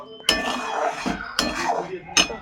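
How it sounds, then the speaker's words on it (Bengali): Vegetables dropped one by one into a wok for a paneer dish, each addition giving a sharp clatter, three distinct knocks with a soft sizzle in between. "এবার আমি এর মধ্যে একে একে সবজিগুলো দিয়ে দেবো।"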